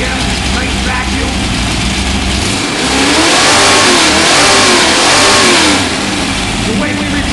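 A rebuilt Ford 302 V8 car engine idles around 800 RPM, then revs up in a swelling roar for a few seconds before settling back to a steady idle, loud and close with people talking over it.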